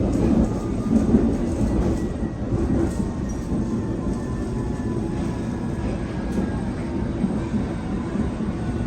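London train running, a steady rumbling rattle of carriages on the rails with faint clicking, heard from inside at moderate level without pause.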